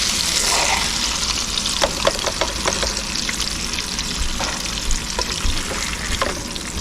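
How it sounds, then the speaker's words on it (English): Catfish fillets fry in vegetable oil in a skillet outdoors, producing a loud, continuous sizzle with scattered pops and light clicks close by. "Just got some vegetable oil in there and we'll cook them up."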